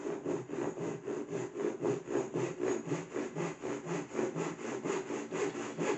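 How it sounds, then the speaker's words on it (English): Restored vintage hand saw cutting dovetails in timber, a rapid even series of rasping back-and-forth strokes, close and moderately quiet, with a steady rhythm throughout. "I think it's fairly obvious that the saws are cutting so much better now."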